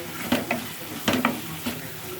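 Coconut cashew paste going into a sizzling curry and being stirred, with a soft frying hiss under several scraping spoon strokes against the pan.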